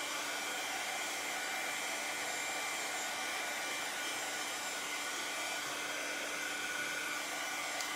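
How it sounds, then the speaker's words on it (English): A blow dryer runs continuously at a steady loud whir for the full eight seconds, drying a craft project with no talk. "You could use a blow dryer, or you could just be patient and let this dry."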